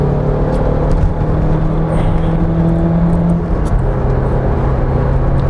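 A 1995 Fiat Tempra Turbo drives through an open curve, a steady engine drone and road noise heard from inside, loud and continuous with slight pitch shifts.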